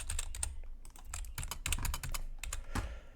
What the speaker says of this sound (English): I'm just gonna type something random in there.